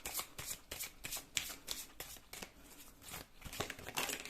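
Playing cards shuffled for a tarot-style card reading, a quick run of rhythmic riffling and snapping bursts, close and fairly soft, with no talk.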